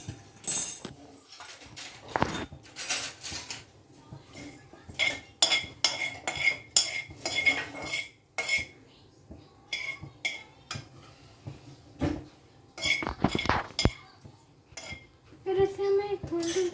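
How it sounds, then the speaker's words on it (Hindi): Potatoes stirred in a pan with a spoon or fork over low flame, irregular metallic scrapes and clinks of the utensil against the pan, close and bursty with quiet gaps, faint voices in places. "या एक फोर्क से हिलाइएगा।"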